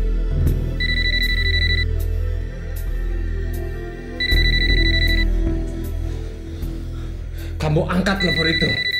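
A telephone rings in repeated electronic trills, three bursts spaced a few seconds apart, with voices and background music continuing underneath.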